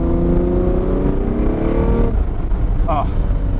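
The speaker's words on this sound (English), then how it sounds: "there truly is nothing like driving a big V12 Lamborghini" A 2001 Lamborghini Diablo VT 6.0 with a V12 engine accelerating hard, a loud rising engine drone heard from inside the car that drops off after a couple of seconds, with someone talking over it.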